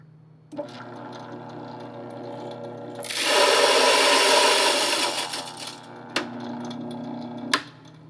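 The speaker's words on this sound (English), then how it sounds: "First thing we're going to do is grind the coffee." An electric coffee grinder hums, then roars for a couple of seconds as it reduces beans to a fine, powdery grind for Turkish coffee, before dropping back to a motor whir with a few sharp clicks.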